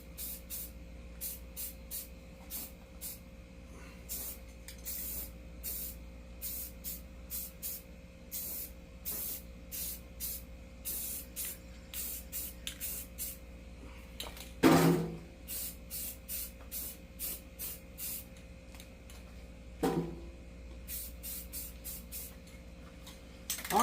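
Spray coat being applied to a TLB build: repeated short bursts of hissing spray in a steady rhythm, close and moderately loud over a low background hum, with a couple of brief knocks partway through.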